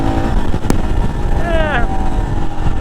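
A 2023 Royal Enfield Himalayan motorcycle pulls hard at full throttle, its engine droning loud and close beneath heavy wind buffeting, with a short rising whine partway through.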